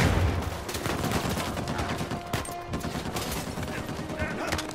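AK rifle fire in Uncharted 4 comes as rapid, close gunshots in irregular bursts, with sharp cracks over a busy combat backdrop.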